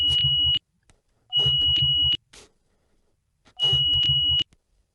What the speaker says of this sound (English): And you can hear the beep.